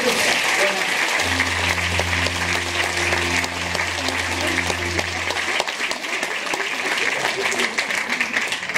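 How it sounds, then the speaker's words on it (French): An audience applauds at a film festival's closing ceremony, a dense, sustained round of clapping from a large crowd, with a steady low hum underneath for much of it. "je crois vous pouvez vous applaudir très fort"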